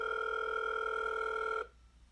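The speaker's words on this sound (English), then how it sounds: "The dial tone seems to mock me as it endlessly rings." A phone ringing tone from the video game Doki Doki Blue Skies holds one steady, clean electronic tone for about a second and a half and then cuts off abruptly into near silence.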